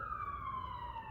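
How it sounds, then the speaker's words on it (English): A single siren wails steadily in the distance, heard from inside a workshop, its tone drifting slowly downward, fairly faint over a low background hum. "Hear this mass sirens out here."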